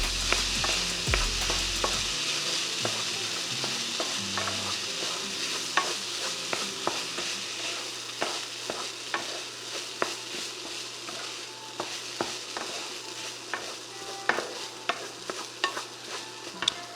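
Garlic fried rice stir-fried in a pan with soy sauce: a steady, loud sizzle with frequent scraping and clinking of the spatula against the pan, carrying on throughout with no talk.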